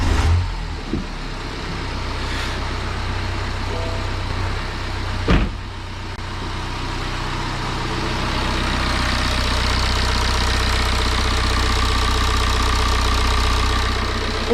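BMW N47 diesel car engine idling just after start-up, following timing chain work, a steady low rumble running alone and close throughout with a couple of brief knocks near the start.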